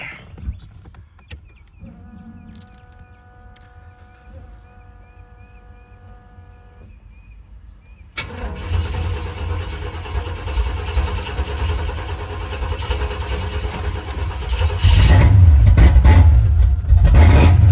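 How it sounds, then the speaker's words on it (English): A Chevrolet C10 pickup engine cranks with difficulty after a quiet stretch, then catches and runs loudly at a rough idle, swelling louder near the end as the throttle is held open to keep it running. "Y'all see that hard start? It didn't want to start. I'm having to hold the gas to keep it running."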